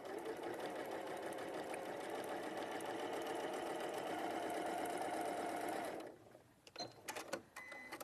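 A sewing machine stitching across fabric runs in a steady, fast mechanical whir for about six seconds, then stops, followed by a few faint clicks and handling noises.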